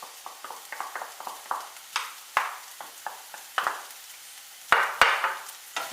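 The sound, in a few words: stirring ground chicken frying in a pan for cutlets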